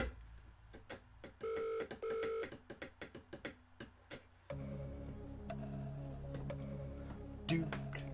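A telephone rings twice in short, quiet electronic bursts among soft clicks and ticks during a phone-a-friend moment on a quiz show, followed by a steady hum.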